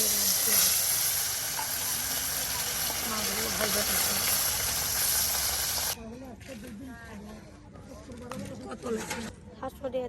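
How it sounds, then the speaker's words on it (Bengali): Fish sizzles and hisses in hot oil for several seconds under talking, outdoors on a riverbank, then the frying stops and only voices remain. "মাছগুলা ভেজে নেওয়া হবে। হ্যাঁ, মাছ ভাজা"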